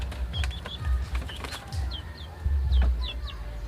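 White turkeys calling in a busy, crowded pen, with short clucks and chirpy calls repeating over a low rumbling background, fairly close.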